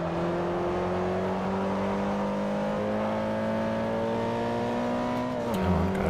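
A Mitsubishi Evo X GSR engine in Forza Motorsport 4 drones steadily near and loud, its pitch rising slowly through a gear before dropping at a shift change near the end; no talk.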